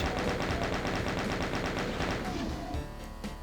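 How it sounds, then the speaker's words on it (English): Rapid chaingun fire in Doom II tearing at enemies around a pit, a steady stream of loud, evenly spaced shots that carries through most of the clip before breaking up near the end. "using the chain gun, we can snipe off the enemies on the four sides of the pit"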